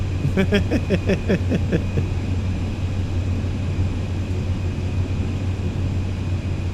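An airplane taxiing quickly in Microsoft Flight Simulator 2020, a steady loud engine drone and hum that runs throughout, with a brief burst of chatter-like tones near the start.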